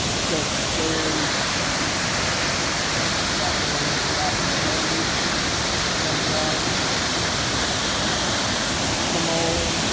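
A North Georgia waterfall rushes with a loud, steady, broad roar filling the whole span, while a voice speaks faintly beneath it.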